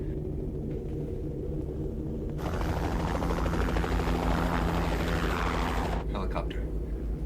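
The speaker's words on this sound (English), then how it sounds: "Helicopter" Helicopter flying, a low throbbing rotor rumble that swells loudly as it passes close overhead and then fades back to a distant drone.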